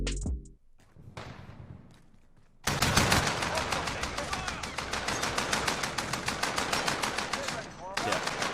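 Rapid automatic gunfire in the shooter video game Call of Duty, a loud sustained stream of shots after a few quieter seconds, briefly dipping before resuming, with game sounds and possible voices underneath.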